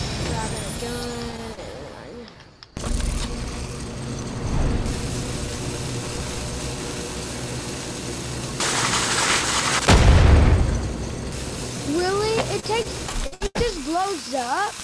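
Dynamite blowing up in a Fortnite match, a loud booming blast with a rumbling tail amid game noise, with players chatting around it.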